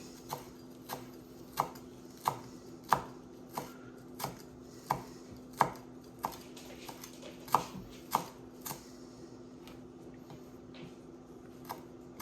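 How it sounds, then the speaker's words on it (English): A knife chops a bunch of Italian parsley, stems included, on a cutting board: a steady run of about fifteen crisp, close knocks that slows and fades toward the end, with no talking. "I've got a bunch of parsley here, which it's Italian parsley. I'm just going to chop it up."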